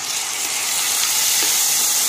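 Onions and tomatoes sizzle and fry steadily in a pan with bay leaf and dried red chillies for rajma khichdi, a close, even hiss with no pauses and no voices.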